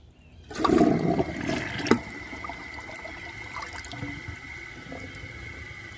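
A Delta Corrente toilet flushes a large cloth with a strong, close rush of water that fades after about two seconds into a steady trickle and refill hiss.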